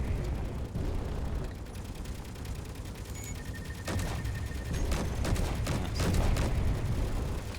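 Auto cannons fire in a Space Engineers battle during a Reaver attack, loud rapid bursts of booming shots and impacts rolling over one another with brief gaps between volleys.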